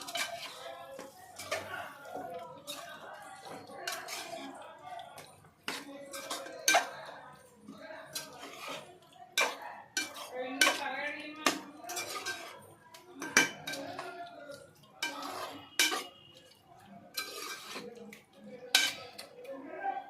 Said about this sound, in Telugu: ఈ విధంగా పేస్ట్ అనేది చికెన్లో బాగా కలిసే విధంగా మిక్స్ చేసుకోవాలి.